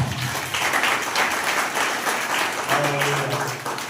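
A church congregation claps together, a dense wash of applause sustained for several seconds, with a voice briefly audible near the end.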